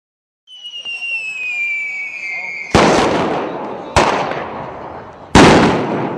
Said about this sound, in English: Chashan Besari is a night of fireworks.